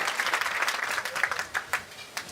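A mushaira audience in Sakinaka bursts into applause for a poet, a dense wash of clapping that thins toward the end into a few scattered claps, fairly close and with no voices on top.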